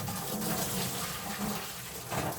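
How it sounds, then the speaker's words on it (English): Water pours out of an opened whole-house filter housing into a sink, a steady, moderately loud splashing gush that continues without a break. "Gonna start pouring water, which is normal because there's water in there."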